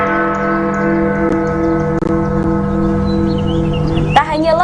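A clock tower bell in Bukittinggi rings on the hour, loud sustained tolling with long ringing overtones, a few distinct strikes decaying into one another, with a brief sharp metallic clatter near the end.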